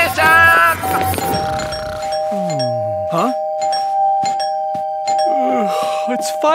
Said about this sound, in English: Who's ringing the doorbell at this hour?